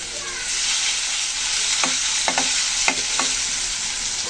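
Pangas fish frying in hot oil with turmeric, a steady dense sizzle that runs throughout, broken by a few sharp spatter pops and stirring clicks, with no voices.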